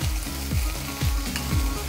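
Pieces of beef fillet frying in a frying pan, a steady close sizzle with regular stirring or turning scrapes about every quarter second, with no talking.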